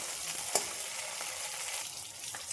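Green chillies frying in oil for a chicken chilli dish, a steady close sizzle with faint crackles and one sharp pop, no talking.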